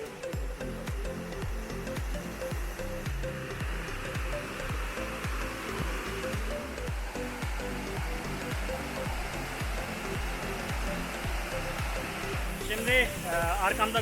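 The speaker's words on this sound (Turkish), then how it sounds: "görüyorsunuz büyük bir şelale ve sesi zaten duyuyorsunuz" A large natural waterfall in India roars as a steady, loud, broadband rush throughout, with a rhythmic low pulsing underneath and a brief brighter splash near the end.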